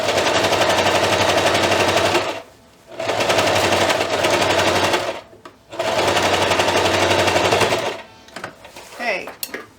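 A sewing machine rattles in fast, even bursts while stitching the sleeve of a robe for a costume, three long close runs separated by brief pauses, ending in softer handling noises.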